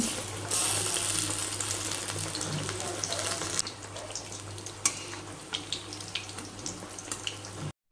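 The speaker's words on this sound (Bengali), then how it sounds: "আলুটাকে ডুবিয়ে তারপর সুজিতে কোট করে এটাকে গরম তেলের মধ্যে ভেজে নিতে হবে" A semolina-coated potato cutlet fries in hot white oil with a steady, close, hissing sizzle, dense at first and then thinning into scattered pops and crackles.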